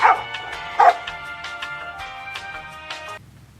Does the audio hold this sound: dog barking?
yes